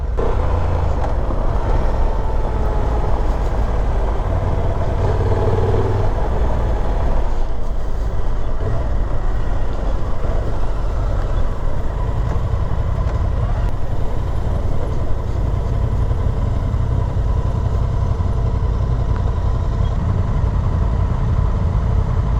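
A motorcycle engine drones steadily while riding a rough, broken mountain road, a continuous close rumble with wind noise and no speech throughout.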